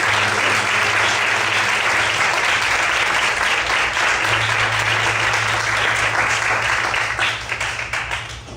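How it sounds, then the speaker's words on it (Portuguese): A church congregation applauds together in sustained, loud, dense clapping that holds steady before thinning slightly near the end, with no voices over it. "Vamos aplaudir ao Senhor em forte alegria"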